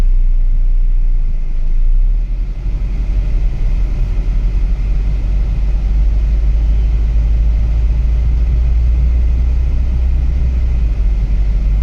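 A car being driven on the road during a throttle and pedal sensor check, with a steady, loud low engine and road rumble that holds evenly throughout, no voices.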